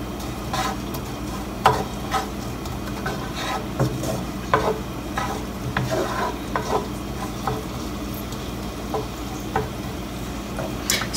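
Onion gently sautéing in warm olive oil, a soft steady sizzle with repeated stirring and scraping of a utensil in the pan, close by and without talk.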